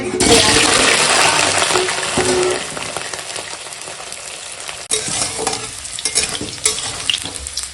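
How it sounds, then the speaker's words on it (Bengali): Potato pieces hit hot oil in a loud, dense burst of sizzling that gradually eases into a steadier crackle, with faint background sounds. "আগে আলুটা ভেজে নেবো চলো তেল গরম হয়ে গেছে"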